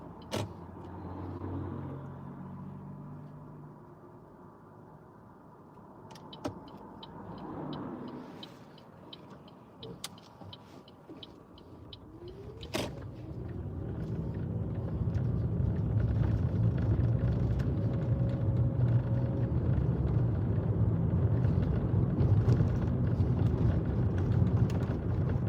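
A car pulling away during a driving lesson: quiet cabin with clicks and a brief whir, then the engine rumble builds and holds steady as the car drives off, heard from inside.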